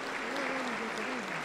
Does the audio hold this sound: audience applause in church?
yes